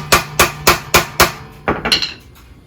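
A hammer strikes a broken car shock mount in place of a chisel tool: five evenly spaced, sharp metallic blows, then a quicker cluster of lighter hits, close and loud with no talking.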